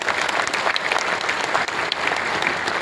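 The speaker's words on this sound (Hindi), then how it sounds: "इनके लिए जोर से ताली बजाएं" A crowd at a public gathering claps loudly and continuously, the individual claps crackling close and uneven within a thick, sustained burst of applause, with no voices over it.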